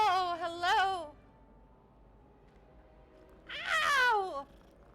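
A cat in a video game set around a castle meows twice, a clear rising-falling call followed after a pause by a second, slightly longer meow, close and loud over a faint background.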